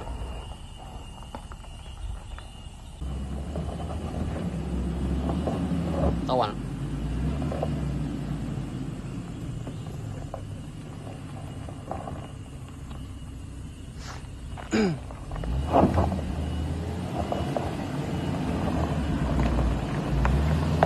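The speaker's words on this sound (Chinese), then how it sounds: "发动机怎么踩出这种声音来了？" A latest-model Land Rover Discovery engine rumbling during a steep off-road descent on a hillside farm, a low continuous growl with occasional bumps and knocks, under wind noise and intermittent voices.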